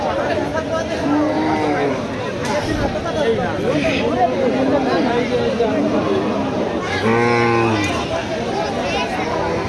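A cattle market in Gopalganj fills with dense crowd chatter and hubbub, and a single low moo from a cow briefly rises out of the din near the end.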